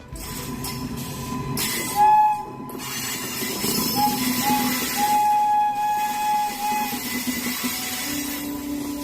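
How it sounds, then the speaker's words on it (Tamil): A stalled Vande Bharat train being towed by a freight locomotive, with a loud sustained rumble of rolling wagons, a horn blast and squealing wheels rising over the steady clatter. "பாரத் ரயிலை சரக்கு ரயில் என்ஜின் இழுத்து சென்ற வீடியோ வைரல்."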